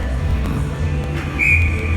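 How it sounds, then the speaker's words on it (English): A hockey linesman's short, sharp whistle blast cuts through the steady rumble of a large arena crowd. "He blows his whistle to let everybody know he's ready."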